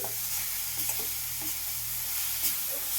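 Grated coconut being stirred with jaggery in a pan for a sweet filling, a steady dense sizzle with soft scraping stir strokes, close and continuous.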